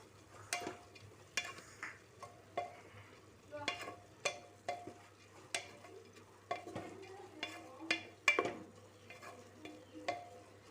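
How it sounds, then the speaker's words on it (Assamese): Masoor dal (red lentils) stirred in a pan with greens, repeated close scraping strokes in a loose rhythm, roughly one every half second, over a faint low hum. "এতিয়া মই এইখিনি 2 মিনিটমান অকণমান লৰাই দিম"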